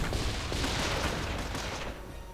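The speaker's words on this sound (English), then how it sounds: "And then we got grenades." Grenade blasts and gunfire from a Panzer Grenadier battle in a wartime strategy video game, forming a loud, dense rattle of bursts that barely lets up and eases slightly near the end.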